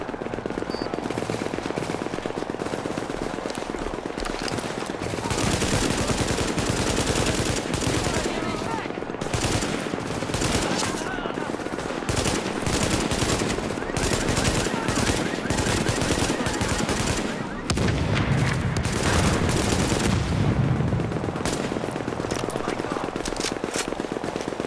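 Golden AK rifle fire in the online shooter The Division, a dense stream of loud automatic bursts and other gunfire running almost nonstop through a frantic PvP firefight, with brief short gaps between volleys.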